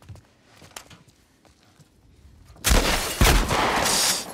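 Gunfire in The Last of Us Part I: faint scattered pops and clicks, then sudden loud, close blasts that roll into a dense, sustained volley lasting to the end, with no talking.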